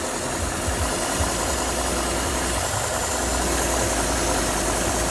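Radiator cooling fans whir steadily over the idling 4.6L V8 of a 2008 Cadillac STS, a constant close rumble and rush with no pauses.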